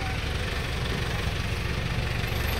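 A Hyundai H-100 diesel engine that had stalled in a flood idles steadily close by, a continuous low rumble with a faint knocking texture and no gaps.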